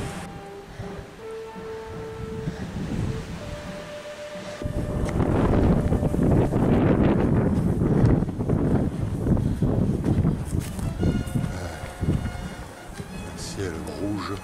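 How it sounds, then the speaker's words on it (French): Strong wind buffets the microphone on a hike near Saint-Vallier-de-Thiey, a steady rushing roar that swells into heavy gusting midway, with a person speaking over it. "Un vent de fou."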